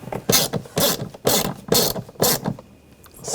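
A ratchet drives screws home on the rear window regulator of a 2000-2006 BMW X5, sounding as close, loud bursts of rapid clicking in about six strokes with brief pauses, then a quieter tail, with no speech.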